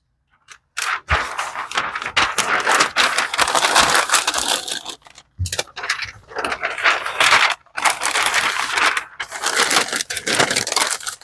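A pair of pants is wrapped in paper for shipping: loud, close crinkling and rustling as the paper is folded and handled, broken by a few brief pauses.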